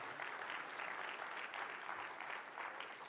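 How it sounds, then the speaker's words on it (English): Steady, dense applause from an audience at a talk, a continuous crackling wash of many hands clapping that holds at an even level throughout without standing out loudly. "Give him a round of applause."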